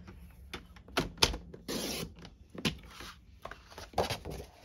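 Paper trimmer cutting smoky slate cardstock for a handmade card, close quiet swishes and clicks of the blade sliding and chopping in a few uneven strokes.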